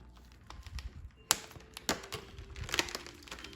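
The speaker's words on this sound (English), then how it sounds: "I'm gonna show you guys where I'm cutting the plastic at" Scissors snipping through the stiff plastic packaging of an LOL OMG doll, giving a few sharp cuts and crinkles with quiet handling noise in between.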